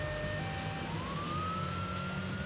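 Police car siren in the racing game Midnight Club: Street Racing, a continuous wailing tone that rises in pitch partway through, heard over steady engine and road noise, no talking.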